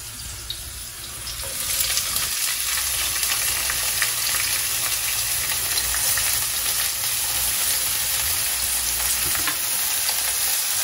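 Ginger sizzles in hot oil while chicken adobo fries in a home kitchen, a steady, close crackling hiss that swells after a couple of seconds and holds through the rest.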